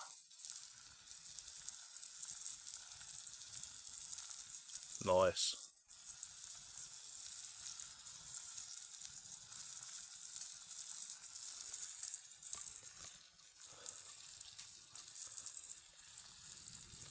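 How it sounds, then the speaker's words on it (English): Meat sizzles in a pan over a campfire in a steady, quiet hiss, with a brief clatter partway through. Someone speaks briefly over it. "Yep, they're starting to sizzle."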